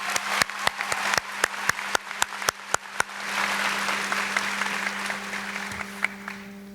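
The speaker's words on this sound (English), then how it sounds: "Let's give them a well-deserved round of applause." Graduation audience at a 2017 high school ceremony gives a round of applause: a few loud, separate claps at first, then dense, steady clapping from the crowd that holds and slowly thins, with a low steady hum running underneath.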